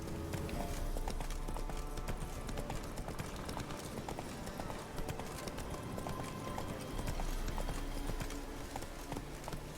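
Roach the horse's hooves clip-clopping steadily at a run in The Witcher 3, a continuous rhythmic stream of hoofbeats over game ambience and music.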